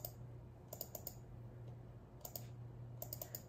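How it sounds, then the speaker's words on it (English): A computer mouse clicks while an image is designed on screen, faint, crisp clicks in quick pairs and small clusters, spaced apart over a quiet background hum. "And I'm just double clicking it."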